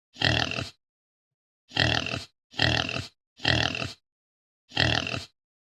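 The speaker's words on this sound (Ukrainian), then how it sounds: "правильно, це свиня." A domestic pig grunts five times in short, throaty bursts: one, then a pause, then three in quick succession and a final one, each loud and close with silence between.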